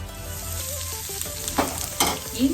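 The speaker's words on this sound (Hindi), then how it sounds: "ये मेरा ऑयल हो गया है और अब मैं इसमें डालूंगी ये हींग" Asafoetida hitting hot oil in a home kitchen, a close sizzle with a rising burst of frying and a couple of sharp spatters toward the end.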